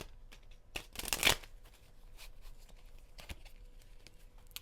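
A deck of tarot cards being shuffled by hand: a few short riffle bursts, one louder and longer near the start, then softer flicks and taps, close and quiet otherwise.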